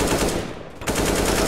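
Loud, rapid gunfire bursts from a Counter-Strike match on the Train map, automatic fire with a short break in the middle and no talking.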